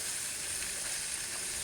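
Bacon sizzles and spits in a titanium pan heated over an open fire on a Kelly Kettle, a steady close, even frying hiss throughout with no voices.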